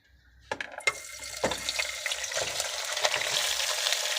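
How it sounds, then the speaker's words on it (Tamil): Cut mala dried fish hits a pan with a little oil: a few sharp clatters, then a soft sizzle that builds into steady, close frying. "நம்ம மாலை கருவாடும் ரெடியாக வெட்டி வச்சுருக்கு."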